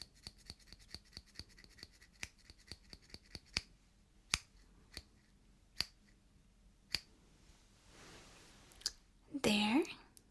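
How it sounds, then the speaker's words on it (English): Scissors trim hair close up in a quiet ASMR session, giving a steady run of crisp, sharp snips, with soft talk near the end. "these scissors really did their job well"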